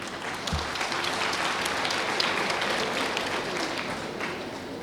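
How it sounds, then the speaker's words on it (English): Sustained audience applause at a university graduation ceremony, steady dense clapping from a large crowd filling the hall at even loudness throughout. "Could you please clap for them?"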